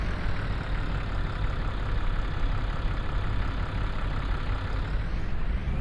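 A farm tractor engine runs steadily and fairly close, a dense continuous rumble with a knocking idle texture and no voices over it.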